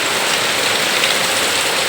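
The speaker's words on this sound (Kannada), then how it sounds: "ಇಲ್ಲಿ ಇದೇ ತರನೇ ಮಳೆ ಸುರಿತಾನೆ ಐತೆ" Heavy rain pours down steadily at a home, a dense, continuous hiss with no voices over it.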